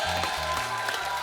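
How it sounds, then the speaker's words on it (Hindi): A studio audience claps steadily in a brief burst, with a low musical tone and faint voices underneath. "सर इसके लिए खड़े होकर ताली बनती है"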